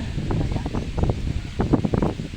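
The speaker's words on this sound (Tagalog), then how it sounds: "Sa malakas ang hangin eh" Gusty wind on a beach buffets the microphone with a steady low rumble, while faint, indistinct voices come and go underneath.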